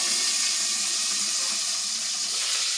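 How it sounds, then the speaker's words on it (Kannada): Mustard seeds, curry leaves and dried red chillies tempering in hot oil for brinjal sambar give a steady, even sizzling hiss that holds throughout without pause. "ಈಗ ನಾನು ಒಗ್ಗರಣೆ ಮಾಡ್ಕೊತಾ ಇದ್ದೀನಿ"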